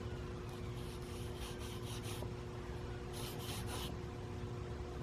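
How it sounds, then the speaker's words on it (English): Soft, rhythmic rubbing strokes of 1500-grit sandpaper wet sanding paint on a 1967 Mustang in quick bursts, quiet and close, over a steady background hum. "And I'll do a little bit of wet sanding."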